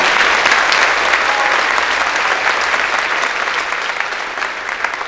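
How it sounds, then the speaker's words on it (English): A crowd at a high school academic and athletic awards night gives a loud, dense round of applause that holds steady for several seconds before slowly tapering, with no talking over it. "I'd like to give a round of applause to those kids"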